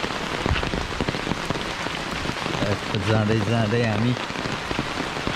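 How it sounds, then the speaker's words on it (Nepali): Steady rain patters and hisses near a river lodge beside a stream, a dense close wash of drops throughout, while people speak briefly over it. "पानी परेछ"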